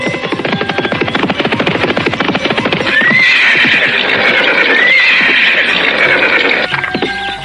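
A horse neighs loudly in a long, shrill whinny over a brisk run of clip-clopping hooves, close and prominent, a staged radio-drama effect of riding.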